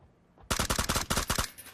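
Rapid burst of suppressed gunfire from a silenced weapon in the shooter game PUBG, about ten close, loud, sharp shots in quick succession, heard alone.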